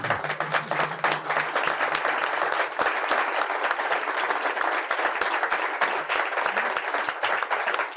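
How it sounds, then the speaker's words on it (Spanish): Applause from the audience at a book presentation in Madrid, a dense, continuous round of clapping by a sizable crowd that holds steady from start to finish, with a brief voice at the very beginning. "¿Podemos aplaudirle?"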